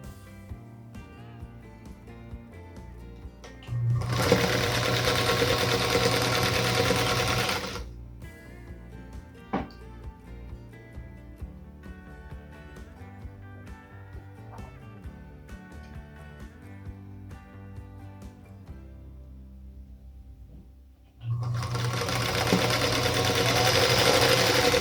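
A sewing machine chain pieces quilt block units for a Union Star block in two loud running bursts, one early and one at the end, separated by a quieter stretch of fabric handling.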